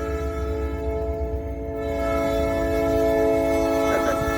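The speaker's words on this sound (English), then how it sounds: "Got the train going." A train rolls past with a sustained, steady horn blast, a layered tonal drone over a low rumble of the cars that swells slightly louder partway through and holds, fairly close and alone.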